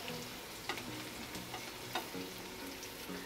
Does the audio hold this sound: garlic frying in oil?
yes